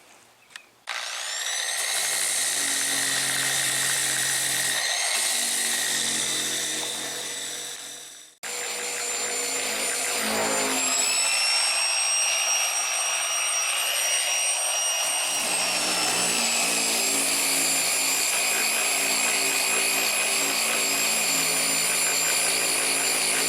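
Power sander working over low spots on car body panels during DIY bodywork before epoxy and high-build primer, a loud steady whine that pauses briefly then restarts and runs continuously.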